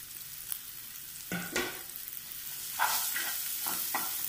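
Shallots and onion sautéing in a pan for a hibiscus flower tamarind curry: a soft, steady sizzling hiss broken by a few short scraping stirs, close and alone.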